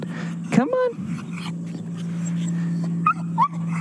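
Dogs in a video game whimper and yip in short rising cries over a steady low engine-like hum, with a person talking nearby between the sounds.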